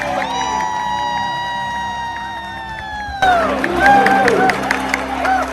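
Audience in a cruise ship theatre aboard Sky Princess on formal night welcoming the captain, cheering and applause swelling suddenly after a sustained musical fanfare, with crowd noise and voices mixed in.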